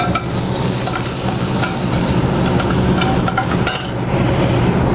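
Garlic frying in oil in a cooking pan for a curry, a steady close sizzle with occasional clinks and scrapes of stirring throughout.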